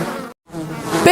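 A dense, steady buzz of a locust swarm sent as a plague upon Pharaoh's people, loud and close, cut by a brief silent gap before the droning swells again.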